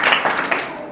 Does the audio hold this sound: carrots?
no